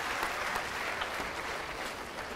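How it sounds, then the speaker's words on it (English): Steady applause from an audience fills the whole stretch, a dense even patter of many hands clapping without a break. "you guys can clap for her"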